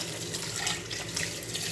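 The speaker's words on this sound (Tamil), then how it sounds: "இப்போ நான் வாஷ் பண்ணுறேன்." Water runs steadily from a tap while a soapstone cooking pot is washed under it, a close, continuous splashing rush that lasts under two seconds with no voices.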